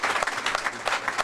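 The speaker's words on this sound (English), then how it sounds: "I want to just give a round of applause for everybody in here" Short stretch of audience applause at a school board of education meeting, a room full of hands clapping steadily at moderate loudness.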